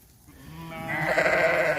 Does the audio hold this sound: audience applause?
no